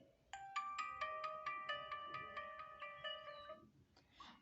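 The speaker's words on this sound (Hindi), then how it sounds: "देख सकते हैं कितना अच्छा रिंगटोन है ये।" Clock alarm ringtone on a Vivo Y51 phone, a steady run of evenly spaced electronic chime notes repeating for several seconds, close and clear.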